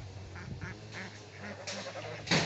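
Several short duck quacks at moderate distance over steady background noise, ending with a louder burst.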